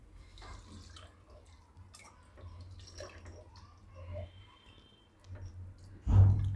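Water is poured into a pot of moong dal khichdi, giving faint trickles and small clinks at first, then a louder, fuller gush of pouring in the last moments, with no voices.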